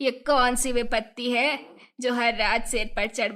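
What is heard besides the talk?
No distinct noise like a dog, phone or traffic.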